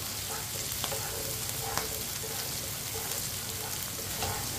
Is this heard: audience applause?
no